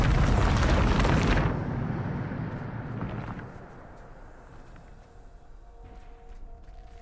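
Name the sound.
Bombarda spell explosion, from video game Hogwarts Legacy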